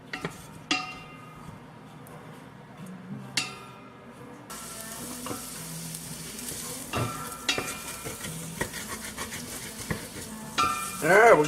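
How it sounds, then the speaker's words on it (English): Sausage for gumbo browns in a pan on a stovetop, a soft sizzle under intermittent spatula scrapes and clacks that start sparse, then grow busier and louder toward the end. "we got this sausage fairly well browned up"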